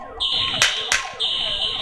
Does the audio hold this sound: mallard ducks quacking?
no